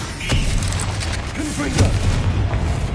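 A Bombarda blasting spell in Hogwarts Legacy detonating with deep booming explosions over a rumbling low background, loud and close, with brief spell whooshes and a voice briefly heard.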